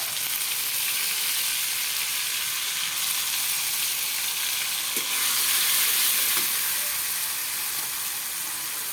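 Tangra fish frying in oil with garlic and ginger paste gives off a steady, dense sizzle that holds throughout, swelling briefly louder near the middle with a couple of faint clicks.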